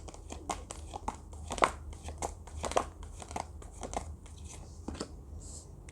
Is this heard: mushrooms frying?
no